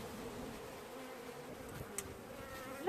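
Honeybees from a freshly swarmed colony hum at an open hive with new wax comb, a faint, steady buzz filling the whole moment, with a couple of brief closer passes and a soft knock near the end.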